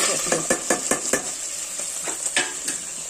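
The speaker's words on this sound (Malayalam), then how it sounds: "പാൻ ചൂടാക്കി 1 ടേബിൾ സ്പൂൺ വെളിച്ചെണ്ണ ഒഴിച്ചു. പിന്നെ നമ്മൾ ചതച്ച് വെച്ചേക്കുന്ന കുരുമുളക്, ചെറിയ ഉള്ളി, ഇഞ്ചി, വെളുത്തുള്ളി" Crushed pepper, shallots, ginger and garlic frying in a tablespoon of coconut oil in a hot pan for mutton liver curry, with a steady hiss and a quick run of spatula stirs and scrapes, close and moderate.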